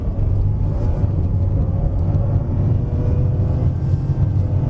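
A Perodua Ativa 1.0 Turbo pulls hard uphill in third gear on a Genting mountain road, its engine droning loud and steady with a constant rumble and faint whine, no talking.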